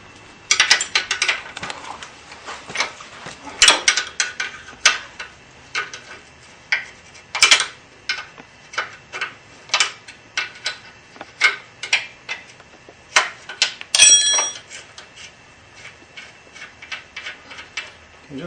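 A wrench works bolts and a nut loose on a BMW F650GS motorcycle, giving a long run of close, sharp metallic clicks and ratcheting ticks with short pauses between bursts.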